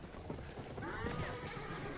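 Horse hooves clip-clop and a horse neighs in the Battlefield 1 video game, a brief, fairly faint burst of trotting with a whinny rising over it.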